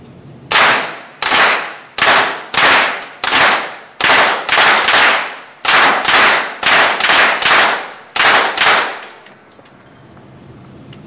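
Suppressed HK MP5SD submachine gun fired in about sixteen loud, close single shots, each a sharp crack with a short ringing decay, spaced unevenly about half a second apart before falling silent, with no talking.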